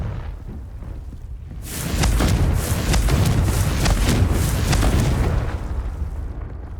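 A Confringo spell in Hogwarts Legacy goes off as a loud blast, then a sustained roaring rumble with crackling bursts that swells for several seconds before easing back, no talk over it.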